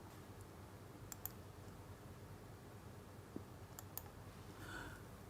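Quiet, sparse clicks of keys on a computer keyboard, a few isolated taps and a short double click over faint background hiss.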